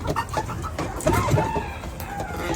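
Dong Tao chickens in newly built farm coops give scattered clucks and a few higher calls against a continuous outdoor background murmur, moderately close and fairly soft.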